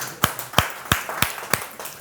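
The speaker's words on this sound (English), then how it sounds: "Let's clap hands." A few people clapping hands together in a room, six or seven evenly spaced, crisp claps at a steady moderate rhythm, close and fairly soft.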